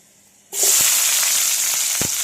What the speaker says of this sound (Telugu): మూకుడు పెట్టి నూనె పోసాను. ఇందులో ఆనియన్ ముక్కలు వేసేసుకోండి.